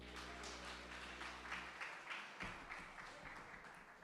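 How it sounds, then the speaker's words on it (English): Applause from an audience at a live-streamed foundation event, a steady wash of clapping running the full length, moderately distant, with a low hum fading out partway through. "another round of applause"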